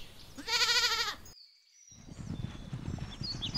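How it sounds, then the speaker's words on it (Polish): A goat gives one loud, close, wavering bleat lasting under a second, followed by a brief silence and then a low, steady rustling background. "Mamy i kozę."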